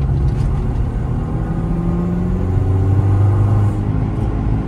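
A Citroen C4 1.6 hatchback accelerates hard out of a roundabout, its engine a steady, loud, close rumble that climbs in pitch as revs build over several seconds, with no talking.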